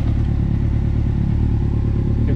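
A Triumph Street Triple motorcycle with a cold engine at low revs gives a steady, close, low rumble throughout as the clutch is engaged, with a faint mechanical clatter.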